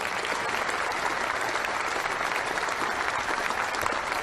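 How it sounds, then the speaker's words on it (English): Sustained, dense applause from a crowd of about 200 people at a town-hall style event, steady and loud throughout with no break. "Give this man a round of applause."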